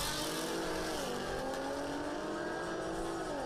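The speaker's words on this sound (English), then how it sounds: "I'm gonna turn it down a little bit because these cars are really loud" Drag racing cars at Yellow Belly Track roar continuously, loud engine noise with a rising and falling pitch, heard steadily throughout, with no talk.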